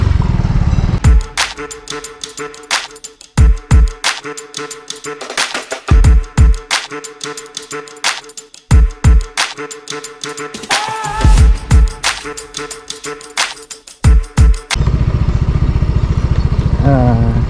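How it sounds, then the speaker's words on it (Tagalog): A Yamaha Mio Gear scooter with a stop-and-start system is restarted and idles, its engine hum broken by sharp clattering bursts and knocks, close and loud, with someone talking at times. "So kailangan natin siyang birahin ulit."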